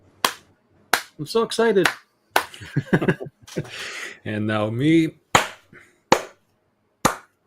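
Sharp hand claps made at the start of a live podcast recording to sync audio, a few crisp isolated hits near the microphone spaced among short bursts of excited speech.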